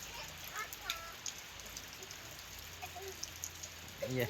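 Steady hiss of rain falling, with brief voices and a louder vocal burst near the end.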